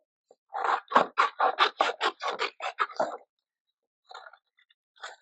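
Scissors cut scrap paper into shapes with a rapid, even run of about a dozen close snips, followed by a pause and a few sparser cuts.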